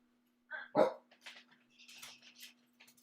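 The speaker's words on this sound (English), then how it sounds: "pay no attention to the dog" Dog barking indoors, one sharp close bark followed by softer yips and whimpering noises, with a faint steady hum underneath.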